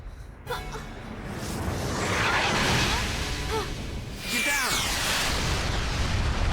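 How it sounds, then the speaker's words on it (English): Booming cannon fire in the video game Lost Odyssey, heavy rumbling blasts and whooshing bursts rolling on without a break, loud and close, with a second burst of impacts near the end. "And then cannon fire!"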